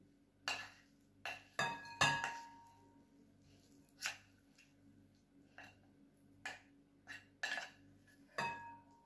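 Cooked quinoa spooned into a bowl, heard as a series of sharp clinks and taps of a utensil against the dish, spaced irregularly with quiet gaps and faint background hum.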